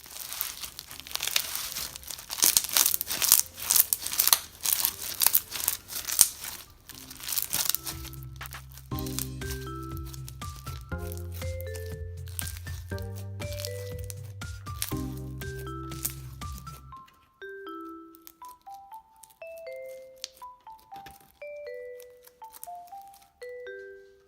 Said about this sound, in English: it's making a lovely sort of crackly sound as it stretches